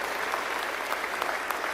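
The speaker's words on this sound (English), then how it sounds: "Give him a big round of applause for the anti-woke General." A political rally crowd in Hamilton gives sustained applause, a thick, even wash of many hands clapping at steady loudness with no speech on top.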